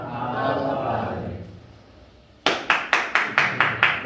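After a stretch of speech, a small church congregation breaks into rhythmic, evenly spaced clapping, about seven sharp claps in steady time, close and loud.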